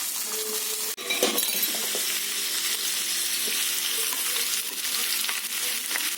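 Chopped onion, green chillies and curry leaves hit hot oil with a sharp clink, then crackle and sizzle steadily and loudly, with faint stirring clinks through the frying.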